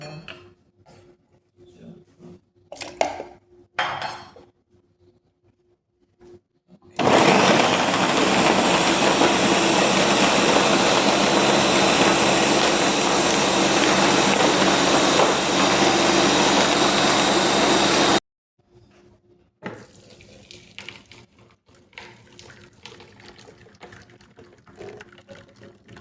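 A blender blending chopped June plum and ginger with water: a loud, steady motorized whir roars for about eleven seconds, then cuts off abruptly, with quieter clattering and handling sounds before and after.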